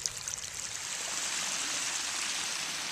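Irrigation water pouring steadily out of a gated pipe for flood irrigation on a farm, a close, even rushing flow that swells slightly after the first moment, with no speech.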